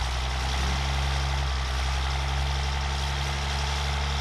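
A drag racing truck engine idles with a deep, steady rumble, loud and close, holding a constant throb throughout with no voices.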